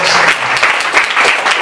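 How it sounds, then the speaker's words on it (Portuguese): Applause from a church congregation during an evening service of the Ministério Assembleia dos Apóstolos in Belo Horizonte, a dense steady clapping filling the hall throughout. "As palmas agradecem ao Senhor."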